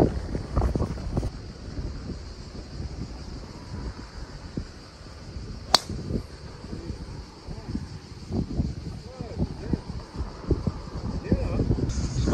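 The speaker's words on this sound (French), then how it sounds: "Vous entendez là le vent, il s'est levé." Steady wind on a golf course buffeting the microphone with low rumbling gusts, rising and falling throughout, with a faint high hum in the background.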